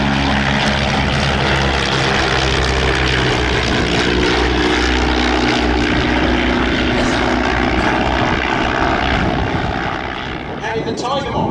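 A formation of propeller aircraft flies past at an evening air display at Shuttleworth, a loud continuous engine drone holding steady then easing slightly at the end, with a commentator talking over it.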